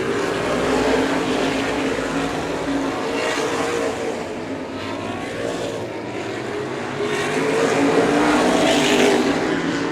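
Open-wheel modified race cars roar around a speedway at the Florida Ice Crusher event, a loud continuous engine drone that swells as the field passes, with no talk over it.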